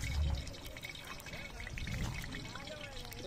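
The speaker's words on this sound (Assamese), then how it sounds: "তেল বাকছি কিন্তু" Cooking oil pours in a steady, soft trickle into a pan or pot, faint and continuous against a light room background with voices in the scene.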